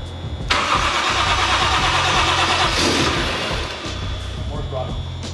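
The Fast & Furious Toyota Supra's engine cranks and catches on its first start-up after a basic tune, then runs loud and close with blips of throttle. People talk over the rumble.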